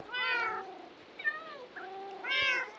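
Minecraft cats give several clear, close meows in quick succession, two longer calls bracketing a shorter one, against a quiet background.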